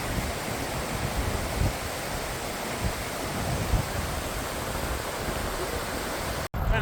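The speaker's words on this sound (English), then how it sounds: "And the waterfall's up there." Steady broadband rush of a waterfall at Salvation Creek along the Historic Columbia River Highway, a constant wash of falling water heard from a distance, with a brief dropout near the end.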